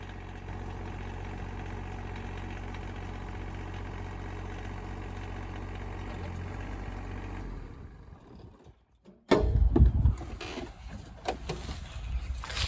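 A TYM T25 tractor engine idles with a steady rumble for several seconds, drops away briefly, then roars back louder and rougher.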